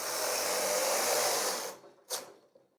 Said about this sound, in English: placing my transfer carriage onto the needle beds, gripping it firmly, lever is down, and in one confident swoop I'm going to transfer all the needles